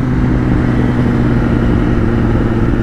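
A Kawasaki Ninja ZX10R sport motorcycle engine runs with a loud, steady, dense roar throughout, close and continuous with no speech.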